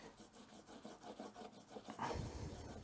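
Sandpaper is rubbed back and forth on an old hand plane being restored, making a soft, steady scratchy rasp with a quick repeating rhythm. The sound is close but quiet and grows a little fuller toward the end.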